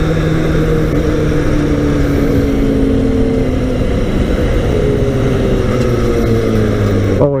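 A Kawasaki ZX6R sport bike rides alongside another sport bike, its engine a steady drone with shifting revs and a shift near the end, continuous throughout.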